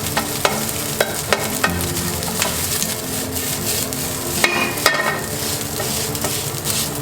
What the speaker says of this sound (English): You want to break the rice.